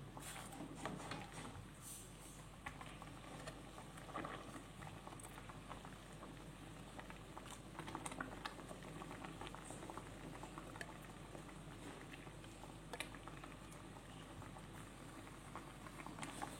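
A pot of spicy-sour tuna fish curry bubbles at a soft, steady boil, with faint popping and patter from simmering liquid close up, no voices.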